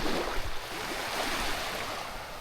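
Water sloshing and splashing steadily around a small wooden fishing boat heading out to check a bamboo fish corral, a continuous close wash of broadband noise with some wind rumble.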